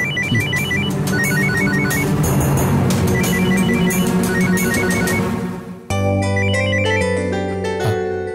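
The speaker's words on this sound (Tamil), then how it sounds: "ஆர்த்தி தான்ப்பா ஃபோன் பண்றா." A mobile phone rings for an incoming call in a Tamil TV serial, a loud, repeating electronic ringtone melody that cuts off and then changes to a different tone partway through.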